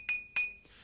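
A small drinking glass chinks twice in quick succession, two bright ringing clinks close by, followed by a fainter third touch as the tone fades.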